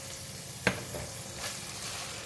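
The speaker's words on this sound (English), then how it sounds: "to stir fry until the meat is cooked" Minced pork stir-frying in a pan, a soft steady sizzle with one sharp clack of a utensil against the pan early on, fairly quiet and without talk.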